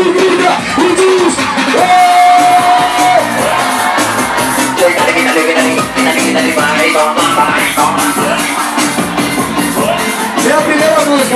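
A crowd at a live concert in Várzea, Recife, shouts and cheers loudly and continuously over amplified music, with whoops and yells rising throughout.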